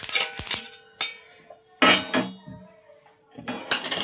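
Roasted sesame seeds are moved into bowls with a spoon, giving sharp metallic clinks and clatters of dishes and cutlery in a few separate bursts, with quiet gaps between them.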